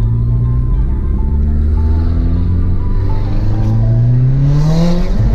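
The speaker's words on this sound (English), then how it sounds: "Your fucking turbo sounds like a fucking wild animal." Car turbo with antilag two-step, a close, loud engine drone whose rising and falling harmonic whine sweeps upward as the engine revs.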